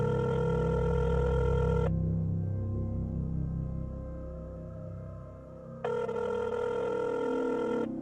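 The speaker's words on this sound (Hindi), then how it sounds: "उसने कमलाबाई को कॉल किया।" A telephone rings in a Mumbai hospital setting, two bursts of a loud electronic ring with a silent pause between them, against a low steady hum.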